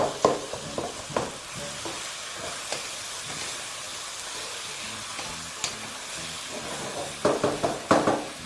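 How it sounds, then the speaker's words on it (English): A spoon stirring and mashing tomatoes, garlic and onions in a pan for matoke stew, a low continuous sizzle with intermittent scraping knocks, growing busier near the end, heard up close. "I actually like to use my spoon to just help to break them up"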